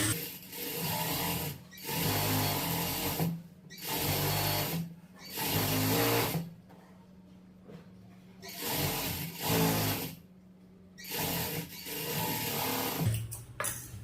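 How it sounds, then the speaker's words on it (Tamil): A sewing machine runs in several bursts, stitching a rough seam along a blouse neckline; loud rapid mechanical whirring with short pauses between runs, no talk. "இப்போ நான் ரஃப் தையல் போட்டே காமிச்சிடறேன்"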